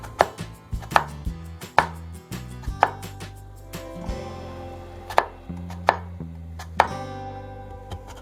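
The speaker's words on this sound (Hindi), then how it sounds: "इन सबको मैं छोटा छोटा क्यूब्स में काट लेती हूँ।" Knife chopping vegetables into small cubes on a cutting board for a Russian salad, a close series of sharp, irregular thuds and clicks, with no one talking.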